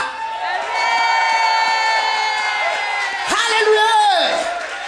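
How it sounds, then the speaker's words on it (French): A church congregation cheers loudly, a sustained wash of many voices shouting and whooping together, swelling into a sharper burst of cries near the end. "lève-toi et acclame très fort Yeshua"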